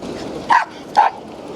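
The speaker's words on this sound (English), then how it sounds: "Lots of excited dogs." Excited dogs give two sharp, loud barks about half a second apart over steady outdoor background noise in a Polish port city.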